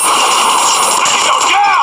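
Flashbang grenade going off during a Call of Duty Mobile 10v10 Domination match: a loud, dense blast with a high-pitched ringing that lasts through the whole brief clip.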